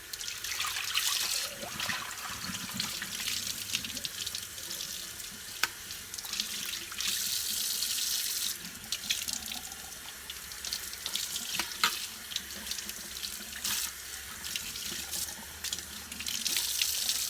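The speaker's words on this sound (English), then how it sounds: "And then you're just going to rinse it out with lukewarm water." Lukewarm tap water running steadily from a faucet into a sink while a human hair wig is rinsed, a constant close splashing hiss with small shifts as the hair moves under the stream.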